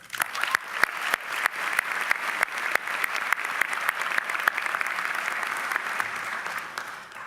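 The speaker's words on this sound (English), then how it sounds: "give yourselves a round of applause because we deserve this" A large audience applauds at a 2018 CSU Chico master's commencement ceremony, a sustained even roar of clapping with sharp individual claps standing out, moderately distant and steady throughout.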